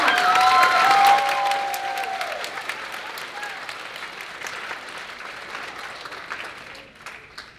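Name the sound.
audience applause at graduation ceremony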